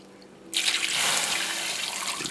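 Tap water gushes into a pot of root vegetables, potatoes and rutabagas, for corned beef, a sudden steady close rush of pouring water that runs on without pause.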